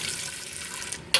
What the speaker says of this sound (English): Just rinsing it out.